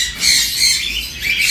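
Cockatiels, lovebirds and sun conures squawk and chatter shrilly at a bird market, a loud, dense, continuous high-pitched din without speech.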